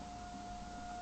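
Faint, steady tornado siren tone holds one pitch far off in Manchester, Georgia, during a tornado outbreak, barely rising above a low background hum.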